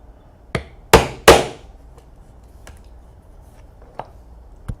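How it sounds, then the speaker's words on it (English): A punch strikes through a leather bracelet strap in a few sharp, close knocks: a light tap, then two loud hits in quick succession, followed by fainter taps after a pause. "I'm going to punch 4 holes, 2 in each end"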